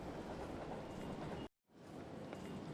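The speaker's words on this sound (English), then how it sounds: "You are on a platform at a train station" A train rumbles past a station platform with a steady broadband roar and faint rail clatter, broken by a brief moment of silence before the platform ambience returns at a moderate level.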